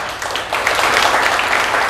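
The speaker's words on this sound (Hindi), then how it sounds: "मनोज जी के लिए जोरदार ताली बजाओ।" An audience at a network-marketing leadership training seminar applauds loudly, a dense, sustained wash of clapping for a man standing up.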